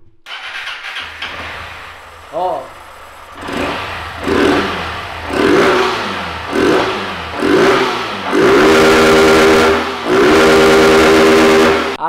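A motorcycle with its stock exhaust and no air filter cranks and catches, then revs in several short bursts before holding a steady, loud idle-rev; a voice briefly exclaims.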